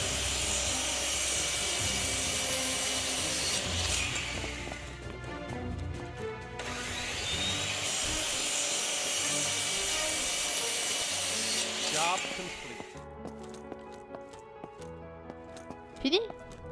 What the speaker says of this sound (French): Utilisez la scie pour découper les verrous de la porte.